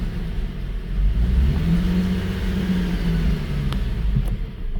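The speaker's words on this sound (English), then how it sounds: "So if I put it in drive, I have to rev it up a little bit to move." Infiniti G37 engine revved in drive with its transmission lines previously disconnected, a steady loud low rumble rising slightly and holding for several seconds, with no talking.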